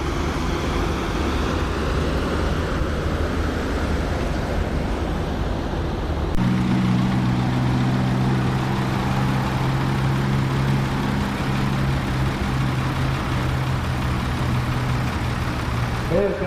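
Tractor engine roaring under load at a county tractor pull, a steady loud rumble that deepens into a heavier droning pull partway through, with crowd and announcer noise mixed in.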